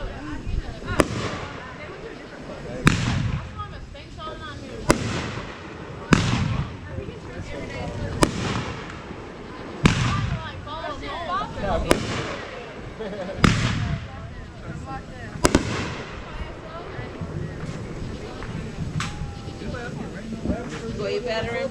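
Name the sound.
fireworks exploding on July 4th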